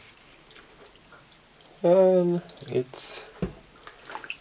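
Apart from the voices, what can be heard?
water poured onto pea microgreens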